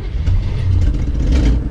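A 1975 vintage camper van engine running rough with a loud, unmuffled exhaust, a dense low rumble holding steady and close throughout with no talk.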